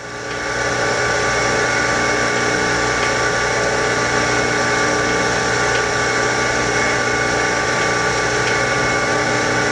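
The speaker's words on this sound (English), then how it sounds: "The only thing moving is your part and the grinding wheel." A DCM Tech PDG 5-3 punch and die grinder runs its grinding wheel against a workpiece, a loud, steady mechanical whir with a constant hum that continues unbroken and alone.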